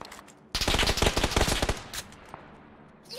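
Rapid automatic gunfire in the battle royale game PUBG on the Miramar desert map, a sustained loud burst of dense shots lasting over a second, then a few scattered single shots trailing off.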